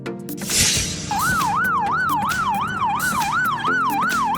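A Greek police car siren wails in a fast, regular up-and-down sweep, loud and close, after a brief burst of traffic noise at the start.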